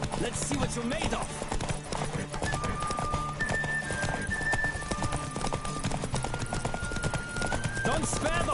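Horses galloping in a race in the video game Witcher 3, rapid hoofbeats pounding continuously with occasional whinnies, under game music and voices talking.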